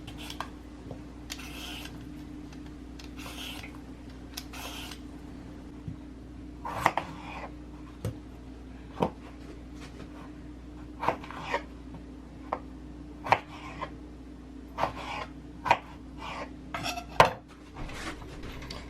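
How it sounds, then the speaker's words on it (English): Potatoes being peeled and cut up in a home kitchen while making Japanese curry, heard as a run of sharp knife taps and clacks on a board with soft scraping between them, growing more frequent toward the end, over a steady low hum. "now I'm going to peel my potatoes and then cut them up"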